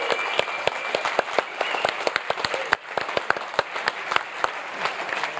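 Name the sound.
audience applause at end of panel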